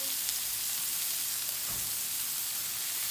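Chicken malai boti pieces frying on a hot tawa griddle, a steady loud hiss and crackle held throughout, close and without talk.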